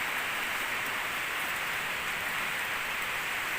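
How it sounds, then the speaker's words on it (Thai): Heavy rain pours without pause over a palm plantation as floodwater spills in, a dense, steady hiss of drops on surfaces filling the scene with no talk. "ฝนก็ตกไม่ขาดเม็ดเลย"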